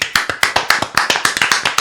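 A small group claps in short, uneven bursts during a French wrestling-themed session, the sharp close taps coming quickly over under two seconds with no voices.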